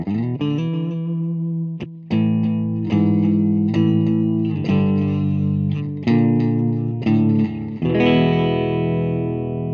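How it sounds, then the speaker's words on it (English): A Donner MultiPad-100 on a clean channel with delay, playing a run of ringing chords and single notes. Each one trails off in repeating echoes, loud and close with no talking. "it's got some delay on it right now,"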